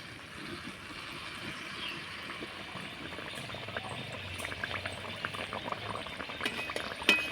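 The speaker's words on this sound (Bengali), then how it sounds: "এবার তেলের মধ্যে ছেড়ে দেব।" Spoonfuls of moong dal poa pitha batter deep-frying in hot oil, a continuous close bubbling fizz with crackling pops that grow busier toward the end, no voices.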